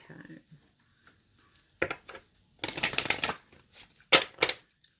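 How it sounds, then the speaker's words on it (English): Brisk riffling bursts of cards being shuffled, several quick rounds separated by short pauses, close and fairly loud. "I'm just distracted by the shuffling."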